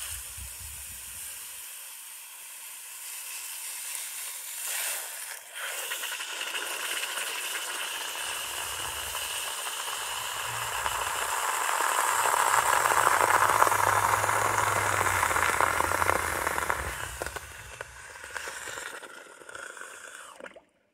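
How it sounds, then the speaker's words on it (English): An air compressor blows plaster out of sand-cast metal with a sustained, fairly loud hiss. It swells in the middle and cuts off near the end. "he used an air compressor to blow out the plaster from the metal."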